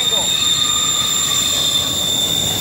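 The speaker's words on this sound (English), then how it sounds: "The wheels are really old, so they're creaking along, and it's hitting the rail at an angle." Worn, old train wheels squealing against the rail at an angle in a rail yard at Roseville, a sustained high-pitched metallic whine held steady for the whole stretch over a low rumble.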